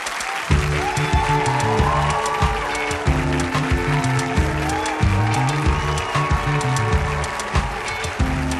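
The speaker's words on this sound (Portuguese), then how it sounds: "Vamos aplaudir o biólogo Átila Yamarino." Studio audience applause welcoming a biologist guest on a talk show, a steady wash of clapping running throughout with a loud musical tone underneath.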